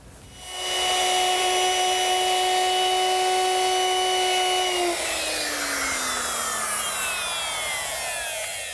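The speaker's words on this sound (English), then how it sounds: "now we'll just round off the edges using the router" Woodworking router with a 3/8 inch radius round-over bit running on the edges of a wooden Shaker woodbox, a loud steady high whine that drops in pitch as the bit bites into the wood, cutting alone with no talk.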